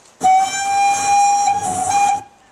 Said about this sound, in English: here's the local train